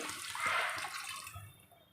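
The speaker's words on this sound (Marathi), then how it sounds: "आपल्याला यामध्ये घालायचं आहे एक ग्लास पाणी" A glass of water is poured into a vegetable mixture, giving a short, soft splashing gush that fades out within a couple of seconds, close and fairly quiet.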